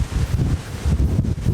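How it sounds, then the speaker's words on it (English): Strong wind buffets the microphone in heavy, uneven gusts in bad weather in Ireland, a low roaring rush with faint rustling underneath. "It's so windy here."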